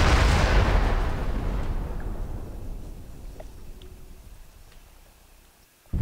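A heavy artillery blast in the MWLL game booms loud and close, then a long rumbling decay fades over several seconds, with a few faint distant ticks and pops, and a fresh burst starts right at the end.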